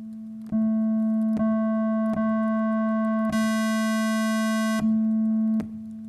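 A steady synthesizer drone holds one pitch, its tone shifting brighter and duller as a low-pass filter knob is turned, with brief clicks between segments and a buzzier stretch midway.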